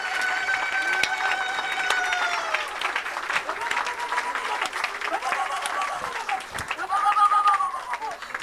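An audience at a worship gathering claps for the Lord in scattered, sharp hand claps mixed with singing and raised voices throughout.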